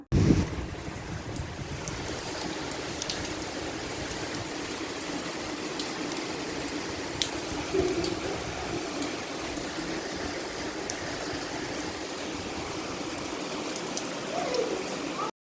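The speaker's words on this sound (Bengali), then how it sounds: "প্রচণ্ড পরিমাণে ভারী বৃষ্টি হচ্ছে আমাদের এখানে কদিন ধরে" Heavy unseasonal rain driven by gusty wind, a constant rushing roar with occasional louder gusts, steady throughout and no speech.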